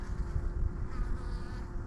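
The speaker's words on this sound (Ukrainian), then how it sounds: "Чути, як бджола вентилює." A steady, close honeybee buzz with a continuous low hum and faint irregular fluttering, bees fanning at a hive in winter.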